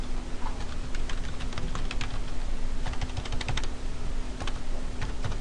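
Close, continuous clatter of keys on a computer keyboard as someone types out a short note, quick irregular taps with no voices.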